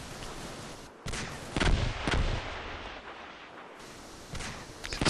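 Gunfire and artillery-like blasts in the WWII wargame Combat Mission Market Garden: a run of sharp, loud shots and booming impacts at irregular intervals, some close and punchy, others duller and farther off, over a rumbling battlefield bed.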